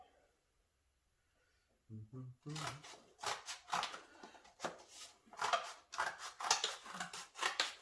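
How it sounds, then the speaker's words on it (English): Scissors snip through cardboard while a wide-body car fender mockup is cut out, giving a quick run of close, crisp, rhythmic cuts after a brief quiet start. "I'm going to cut this out."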